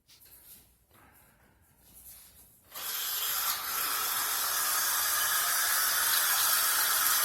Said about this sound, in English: Waterfall Faucet in action.